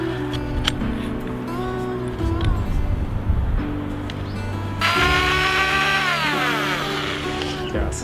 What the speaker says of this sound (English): with that bigger drill, it worked much better